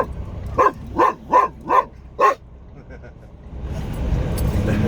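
Five loud barks from a dog indoors, likely inside a vehicle, reacting to another dog outside, spaced in a quick uneven run, followed by a rising low rumble of road or engine noise.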